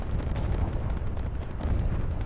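Mortar fire on the Eastern Front battlefield of a WWII tank game: a continuous low rumbling roar of distant explosions and artillery, dense and steady throughout with no clear separate blasts.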